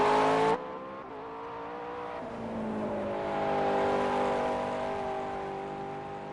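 AI race cars lap Laguna Seca in a racing game, their engines whining in a sustained, rising and falling drone at moderate level, with one loud burst cutting off at the start.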